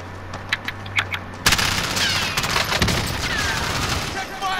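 Heavy automatic gunfire in Call of Duty: Modern Warfare erupts after a few quieter clicks and shots, then rattles on loud and dense, with sharp reports cutting through the continuous barrage.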